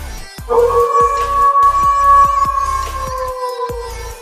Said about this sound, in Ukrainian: Вовк.